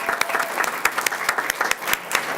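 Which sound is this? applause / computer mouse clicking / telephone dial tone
applause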